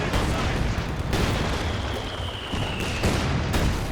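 Mortars and infantry guns shell positions in a Company of Heroes 2 battle, with loud booming impacts and gunfire bursts layered over continuous rumbling battle noise and several sharp blasts, no voices.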